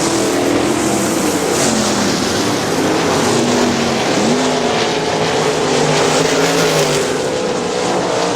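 410 sprint cars racing at the Butler Battlegrounds dirt track in Quincy, Michigan roar steadily and loudly throughout, several engines overlapping with rising and falling pitch as they pass, with no talk.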